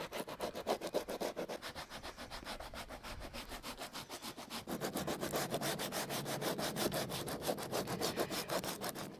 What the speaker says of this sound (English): I'm just sanding the grey area first, and then I'll do the blue section in a minute